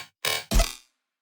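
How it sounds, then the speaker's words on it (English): Two short bursts of dark, gritty dubstep riddim synth bass made in Ableton, the second punchier with a heavy low thump, close and dry, followed by silence. "instead of the basses that we used here, which sound like this"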